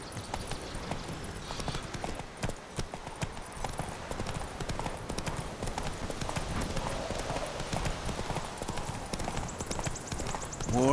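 Roach the horse gallops in The Witcher 3, hooves pounding in a steady, fast clip-clop rhythm that runs loud and continuous throughout, with game ambience underneath.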